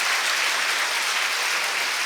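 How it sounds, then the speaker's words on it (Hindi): Schoolchildren clap together to welcome their teachers and principal, a dense, steady burst of applause from a crowd, loud and continuous throughout. "उनके स्वागत में ताली बजाओ।"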